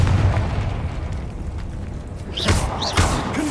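A blasting spell bursts in the Hogwarts Legacy video game, a rumbling low-end blast with a couple of sharp bright flares near the end, over a dense game soundscape.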